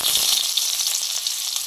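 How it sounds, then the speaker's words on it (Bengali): Onion fries in hot oil in a pan with a steady, close hiss and crackle that stays even throughout, no voices. "তার জন্য পেঁয়াজটা ভেজে নিচ্ছি প্রথমে"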